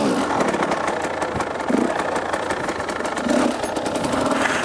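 Motorcycle engine running steadily after a kick start, with the revs rising briefly twice as the clutch is worked in first gear; close and continuous with no talk.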